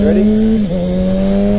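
A Kawasaki Ninja ZX6R motorcycle engine drones steadily at high revs while upshifting without the clutch, a brief dip marking a gear change, loud and close, with a voice speaking once at the start.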